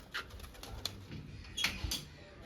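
Three young pigeons sitting in a net give faint, quiet coos, with a few soft wing flutters and rustles in a hushed setting.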